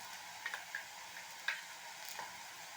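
Ginger-garlic paste and onions sauté in a pan for a paneer gravy, producing a quiet, continuous sizzle with occasional small ticks from a stirring spoon, with no speech.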